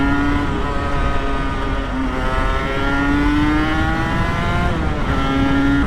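A Kawasaki KR1S two-stroke sports motorcycle being ridden, its engine droning loud and close with a buzzy pitch that rises and falls through gear changes, wind rush underneath, no voices.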